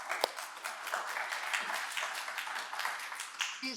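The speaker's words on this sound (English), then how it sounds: "Let's give a applause." Audience applause greets a keynote speaker at a National Institutes of Health event, steady broadband clapping filling the whole stretch at moderate, fairly distant level with no talk over it.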